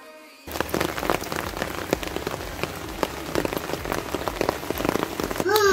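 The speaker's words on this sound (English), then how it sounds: "It has been raining the whole morning" Steady rain patters densely on surfaces throughout, a loud close wash of drops that starts abruptly after a brief quiet moment.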